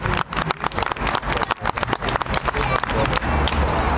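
Rally crowd cheering and clapping, a dense mass of claps and shouts that grows into a sustained roar over a few seconds.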